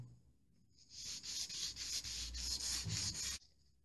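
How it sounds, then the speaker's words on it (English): Light hand sanding of dried wood filler on woodwork: a close, soft, rhythmic scratching of abrasive strokes lasting a few seconds, then stopping abruptly. "A light sand, because this is very smooth already."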